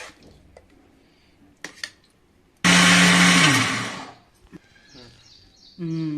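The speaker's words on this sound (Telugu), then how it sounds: "ఇప్పుడు ఇది చల్లగా అయిపోయిందండి, మిక్సీ పట్టుకుందాము." A mixer grinder roars loudly for over a second blending paneer curry gravy, whirring down as it stops; kitchen clatter and a brief voice come before and after.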